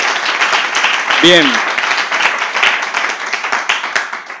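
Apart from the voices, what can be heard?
audience applause for the speaker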